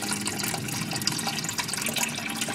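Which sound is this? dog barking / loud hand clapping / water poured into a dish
water poured into a dish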